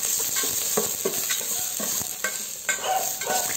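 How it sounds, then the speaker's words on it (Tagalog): Sliced garlic and onion frying in hot cooking oil, a steady close sizzle with irregular stirring scrapes and clicks throughout, no voices. "At kapag mainit na ang mantika, ilagay na natin ang hiniwang bawang."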